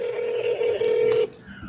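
A telephone ringback tone sounds on an outgoing call, one sustained steady tone lasting about a second and a quarter before cutting off, followed by faint quiet.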